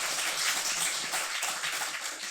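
A church congregation gives a short round of encouraging applause during Sunday worship, dense scattered handclaps filling the room for a couple of seconds.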